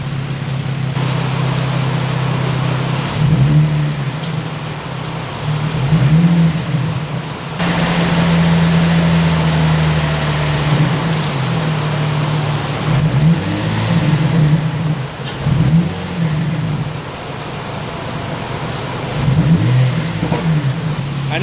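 A Nissan Z engine idles steadily after about fifteen minutes of warm-up, its low drone rising and falling through several brief revs and RPM changes, close and loud with no talk.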